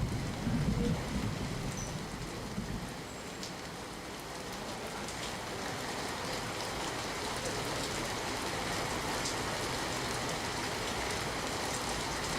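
Heavy rain pours onto Ahmedabad city streets, with water running along the roads. A dense, steady hiss of downpour continues throughout, loud and close, with a slightly heavier burst of splashing at the start.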